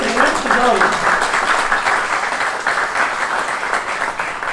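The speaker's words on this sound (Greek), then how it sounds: "Να ξεκινήσουμε με ένα θερμό χειροκρότημα" Warm applause from an audience at a Silver Alert memorial event, a steady dense wash of clapping that holds loud and even throughout.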